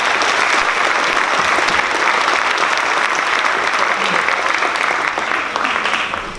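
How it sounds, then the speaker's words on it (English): A large audience at a high school awards night gives a loud, sustained round of applause that fills the hall for several seconds. "Please give her a huge round of applause."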